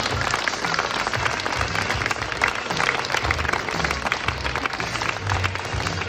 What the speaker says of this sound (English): extra special applause for pattern matching